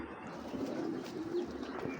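A Mili pigeon pair makes low, rolling coos in a short unbroken stretch, fairly quiet and close, with a hint of chirping behind and no one speaking.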